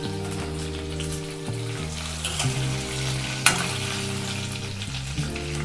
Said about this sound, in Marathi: हलवून घेऊ।